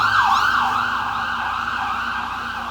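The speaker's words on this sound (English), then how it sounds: "Wait for the siren to go by." An emergency vehicle siren passes along a street, its rising and falling wail loud at first, then settling into a steadier tone and slowly fading over a low background rumble of traffic.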